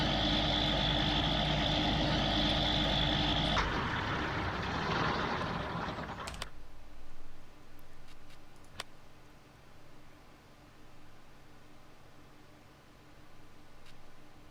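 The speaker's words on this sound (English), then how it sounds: "It's a tractor. It's supposed to be loud." Loud steady tractor engine drone in the video game Farming Simulator 19, a broad roar that cuts off abruptly after a few seconds and fades to quiet background with a few faint clicks.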